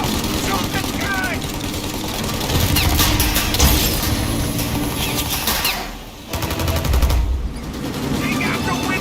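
Sustained automatic gunfire in the video game Mafia Definitive Edition, loud bursts of rapid shots running almost continuously with an engine rumble underneath and voices shouting over the fight, with a brief lull near the middle.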